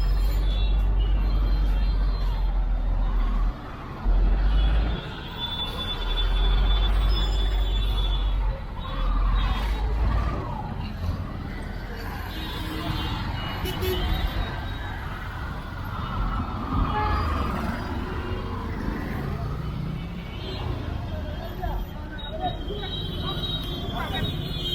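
Busy Delhi street traffic heard while crossing on foot: a dense, constant roar of trucks, buses and cars passing close by, with air brakes hissing and scattered horn toots, and voices mixed into the din.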